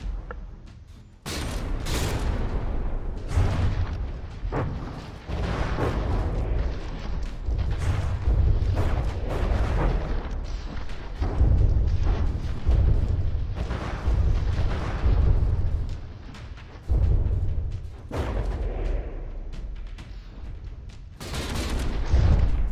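Relentless artillery barrage in the naval combat game From the Depths, dense overlapping shell launches and explosions booming almost continuously and loud, with a few sharper blasts standing out and no talking.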